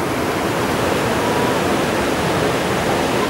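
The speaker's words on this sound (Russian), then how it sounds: "Горная речка." Cold mountain river in the Carpathians rushing loudly and steadily up close, a dense broadband roar of flowing water with no voices.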